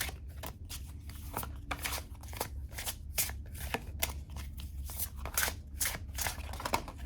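Large tarot cards riffle and slap against each other in a steady, rhythmic shuffle, close and fairly quiet, with no one talking.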